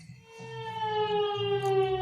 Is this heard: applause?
no